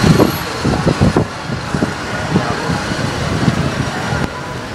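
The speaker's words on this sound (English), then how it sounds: "I just wanted to give you a glimpse of traffic in China." Dense road traffic on a city street in Wuhan, China, with a steady roar of cars, trucks and buses and intermittent engine surges passing nearby, heard alone without talk.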